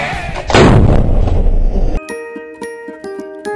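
A single heavy artillery shot booms close and loud, its rumble decaying over about a second and a half before being cut off by bright, ringing musical tones.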